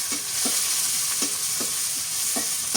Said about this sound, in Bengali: মরিচ পেঁয়াজ রসুন একটু তেলের মধ্যে ভাজে নেই